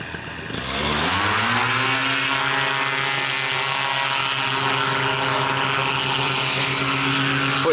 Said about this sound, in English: We got some low flying aircraft.